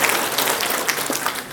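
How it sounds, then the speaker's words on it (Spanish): Crowd at a pharmacy technician graduation ceremony claps loudly and steadily for the director, a dense continuous patter of many hands. "pido un fuerte voto de aplausos, por favor"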